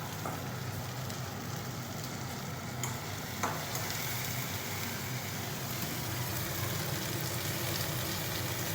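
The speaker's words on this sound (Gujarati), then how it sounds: "લસણ નાખી અને પછી ભીંડો નાખવાનો છે વઘારમાં લસણથી વઘાર્યું" Garlic and okra sizzle in hot oil for a tempering, a steady close crackle and fry with occasional stirring scrapes throughout and no voices.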